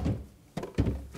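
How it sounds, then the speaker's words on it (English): A tool drawer on a Secotom 10 precision cutting machine slides and closes with two dull thunks in quick succession, close and fairly quiet. "Now I change drawer."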